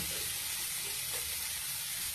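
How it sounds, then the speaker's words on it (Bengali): Corn sizzling with salt in a hot pan while being stirred, a dense continuous frying hiss, close and steady throughout. "লবণ দিয়ে নাড়তে থাকি।"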